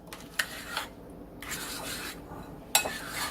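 A spoon stirring thick homemade French onion dip in a bowl, giving a soft, steady rubbing and scraping with a few sharper clinks against the bowl's side.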